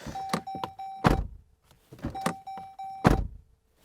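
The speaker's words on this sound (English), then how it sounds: "This is what the door sounds like, with incessant beeping as well." A steady electronic beep repeats while the door of a 2023 Jeep Grand Cherokee is swung and thumped shut twice, each closing a heavy nearby thunk with a faint rattle from something loose in the door.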